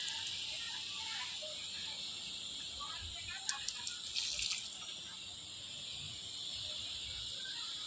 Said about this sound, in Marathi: चला मग आता आपण झाडांना पाणी टाकूया